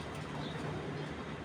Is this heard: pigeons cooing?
yes